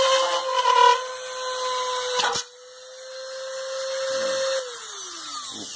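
A drill bores into a thick panel with a high, steady whine. The pitch dips when the bit bites, then it spins on, close and loud.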